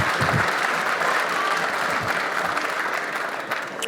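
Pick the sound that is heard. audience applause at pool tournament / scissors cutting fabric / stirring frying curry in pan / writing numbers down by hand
audience applause at pool tournament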